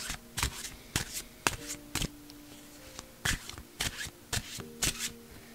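Grief oracle cards shuffled by hand, with repeated crisp riffling bursts in a steady rhythm, close and fairly loud, over a soft hum of background music.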